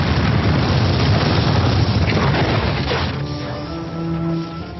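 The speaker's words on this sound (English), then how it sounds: "late one night there was a massive explosion" A massive explosion rumbles loud and broad for about three seconds, a deep roaring blast with debris-like crackle, then thins into a lower rumble with faint tonal ringing as it fades.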